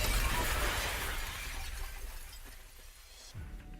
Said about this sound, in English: No, why did the glass pick now to crack?